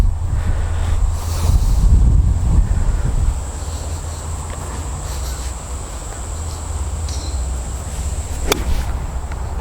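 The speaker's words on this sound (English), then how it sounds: "Little crosswind there" A crosswind gusts across an open golf course, blowing steady broadband noise into the microphone, with a louder buffeting stretch near the start and a faint insect-like hiss throughout.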